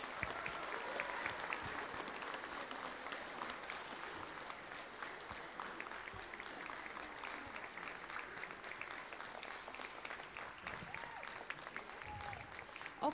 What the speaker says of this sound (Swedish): nu tycker jag att vi ska ta en varm applåd för vår rektor och skolans grundare, Sonoko Kase!